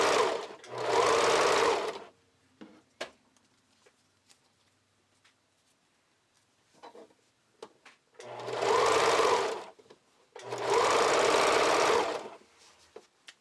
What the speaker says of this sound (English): using a zigzag stitch. I'm going to sew this all the way around.